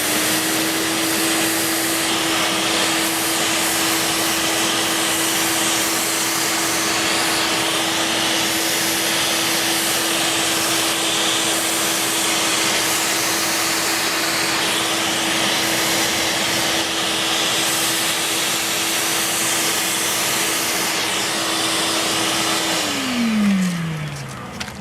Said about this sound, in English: I like to take the shop vac and vacuum over it